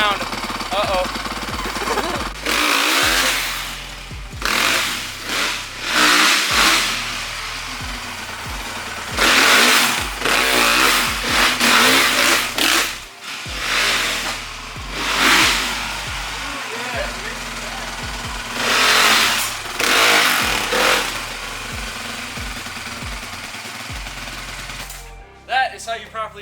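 Drift car engine revving hard while breaking in tires, loud rising and falling engine roars in repeated surges with rough gritty texture, close and continuous, and a voice comes in briefly at the end.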